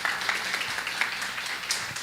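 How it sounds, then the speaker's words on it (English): A small audience at a county Democratic Party meet-and-greet claps for a speaker heading to the stage, giving a brief, thin, scattered applause with a few sharper individual claps standing out. "Everyone give him a round of applause"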